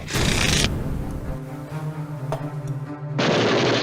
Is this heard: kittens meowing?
no